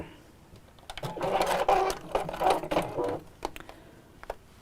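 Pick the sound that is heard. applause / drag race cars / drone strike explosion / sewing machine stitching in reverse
sewing machine stitching in reverse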